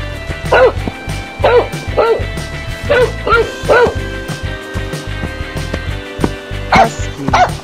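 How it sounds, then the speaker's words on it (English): In an escape room challenge game, a dog barks in short, sharp yips, about ten in quick irregular bursts, layered over a busy game soundtrack. "Dog."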